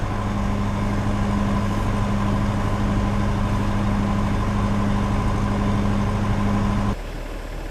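A 3,000 cc car engine idles steadily nearby, a low even rumble that cuts abruptly near the end to a quieter, rougher hum.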